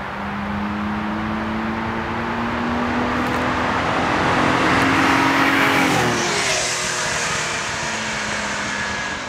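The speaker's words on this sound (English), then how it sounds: "driving the Stratos, because there's all these noises and clanks and rattles" Lancia Stratos being driven, its engine droning steadily and rising in pitch before a gear change, with road roar and faint clanks and rattles in the background, heard from inside the car with no talk.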